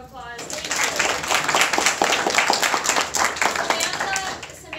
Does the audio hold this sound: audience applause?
yes